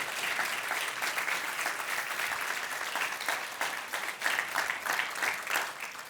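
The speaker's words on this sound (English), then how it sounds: "Guys, let's applaud these people." Sustained audience applause from a standing church congregation, dense and steady clapping throughout, loud and fairly close with no talk over it.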